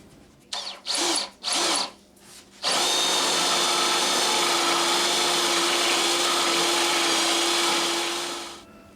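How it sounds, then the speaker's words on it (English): A power drill whirs in a few short bursts, then runs continuously for several seconds as it bores, winding down at the end. "let's get a little drill bit and drill some holes"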